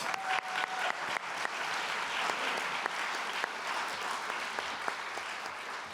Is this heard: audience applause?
yes